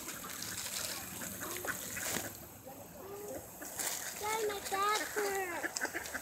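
Hungry ducks at Lake George Park in Hobart, Indiana, give a run of quacks that come closer together toward the end, over outdoor background noise, with people talking nearby.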